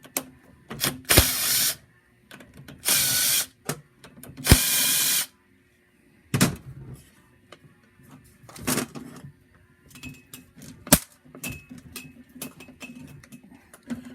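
Number 3 Phillips screws come out of a 1969–72 Chevrolet C10 tilt steering column, with several bursts of a ratcheting or driving tool, then scattered clicks, taps and small metal knocks close by.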